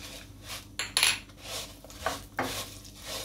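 A spoon stirs sweet vermicelli with cardamom, crushed almonds, coconut and cashews in a pan, making soft scrapes and a few sharper clinks against the metal in an uneven rhythm. The sound is close and fairly quiet.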